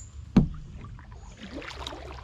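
A kayak paddle strikes lake water once with a sharp splash, followed by quieter dripping and sloshing as the boat turns around.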